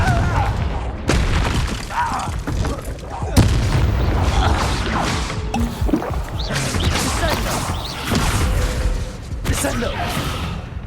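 Confringo spell explosions burst during combat in Hogwarts Legacy, a series of heavy booms and sharp cracks spread across the stretch, mixed with other battle effects and intermittent talk.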